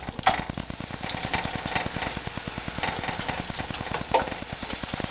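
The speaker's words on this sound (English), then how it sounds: "I'm just going to brown off the beef" Ground beef browning in a pan for sloppy joes, a steady close sizzle with rapid scraping stir strokes running the whole time and no voices.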